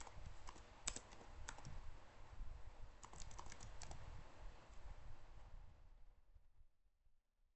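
Keys tapped on a computer keyboard while entering a name and password during an Ubuntu Server install, with close, steady, irregular clicks running for about six seconds before fading into quiet.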